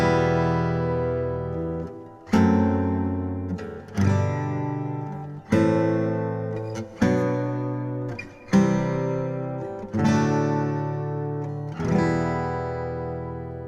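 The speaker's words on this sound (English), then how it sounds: "If I'm gonna play all 7 chords as basic triads, it sounds like this." Seven chords of E Aeolian played on guitar as basic triads, one after another, each strummed once and left to ring for about two seconds, close, full and alone.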